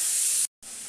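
Potatoes fry in a pan with a loud, steady sizzling hiss that cuts out briefly and then resumes.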